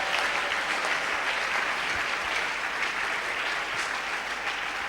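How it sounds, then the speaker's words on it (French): Church audience applauding, a dense, steady wash of many hands clapping at even loudness for the whole stretch, filling the room with no voices standing out. "Acclame pour toi-même."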